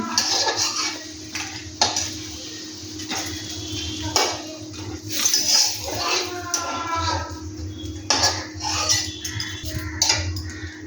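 Fried fritters are lifted out of a pan with metal utensils, making repeated close clinks and scrapes against the pan over a low background sizzle, with irregular bursts of activity.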